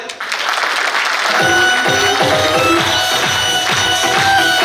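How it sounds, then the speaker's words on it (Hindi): A large seated crowd at a business leadership event claps loudly, a sustained wall of applause that starts after a brief quiet moment, with a low rhythmic thumping and tonal hum running underneath. "बैठ जाइए सब, जोरदार तालियां"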